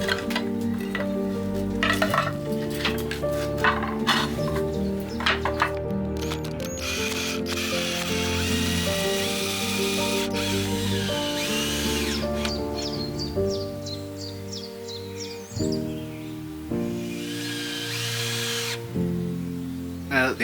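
Drill driving screws through old roof battens into new timber rafters, close, with repeated whirring and ratcheting runs and clattering handling noises, loud throughout with only brief pauses.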